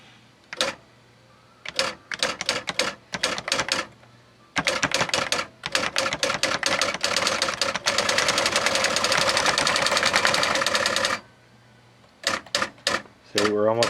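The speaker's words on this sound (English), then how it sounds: "We're in typewriter mode." Panasonic KX-W1525 daisy-wheel word processor in typewriter mode hammering out characters, with bursts of rapid clacking strikes, a long dense run of continuous printing, then a few scattered keystrokes, close and loud.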